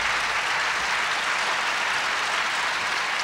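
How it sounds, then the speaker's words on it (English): A large audience at a public plaza claps steadily, a dense even applause held throughout at moderate distance, with no voices. "They're very nice to clap."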